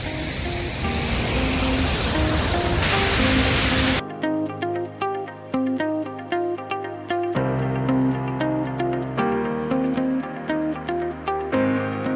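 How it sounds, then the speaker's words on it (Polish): Wachirathan Falls in Thailand roars with heavy, dense rushing water for about four seconds before music takes over and covers it for the rest of the stretch. "Woda się tak potężnie rozbryzguje, że jest y, bryza no, 20-50 metrów nawet od, y, od wodospadów."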